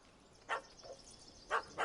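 A yappy little dog in The Witcher 3 gives a few short, sharp barks in two pairs, fairly faint over a quiet background.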